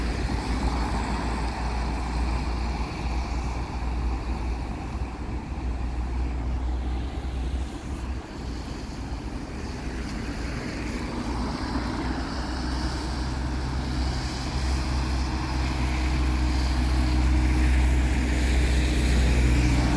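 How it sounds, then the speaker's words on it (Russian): A number 11 city bus passes with a heavy, continuous engine rumble and road roar that stays loud throughout and swells slightly toward the end. "Еще один 11 автобус."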